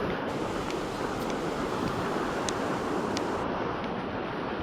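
Ocean surf and wind at coastal cliffs near Tunnel Beach make a steady, broad roar, moderately faint and continuous, with wind buffeting the microphone and no talking.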